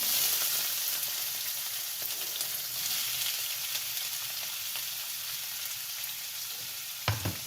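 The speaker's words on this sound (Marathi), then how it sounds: "छानपैकी मी आता ढवळत आहे" Chili, coriander stems and onion frying in a pan with steady, loud broadband sizzling throughout, stirred with scraping utensil strokes and a sharp clatter near the end; no voices.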